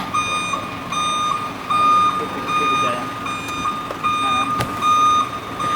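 A Suzuki Celerio's blind spot monitor warning beeps in a repeating pattern of short, steady tones over low cabin road noise, with brief voices in the background.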